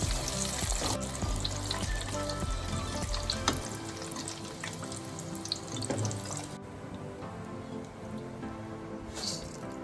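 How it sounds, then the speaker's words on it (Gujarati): Rice flakes (poha) deep-frying in hot oil for a Diwali chevdo snack, giving a steady, close bubbling sizzle that continues throughout without any talking. "ચોખાના પૌવા છે ને હવે એને તળી લઈશું"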